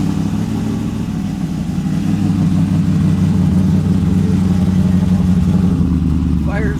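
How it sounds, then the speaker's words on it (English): A modified Pontiac Trans Am WS6 engine runs after a cold start with a loud, deep, steady rumble close by, and a voice briefly speaks over it at the end. "let's get a cold start"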